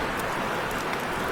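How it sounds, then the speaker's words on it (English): Steady rain falls outdoors on a rainy day, a dense, continuous close wash of noise with no talking. "It's really raining."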